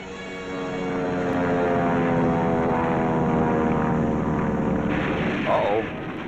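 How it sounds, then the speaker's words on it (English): Steady droning hum of a four-engine, 20-ton Kawanishi seaplane in flight, swelling in then holding a constant propeller buzz with rich harmonic layers, fairly loud and without speech. "A 20-ton, 4-motored Kawanishi seaplane, the kind we call Emily's."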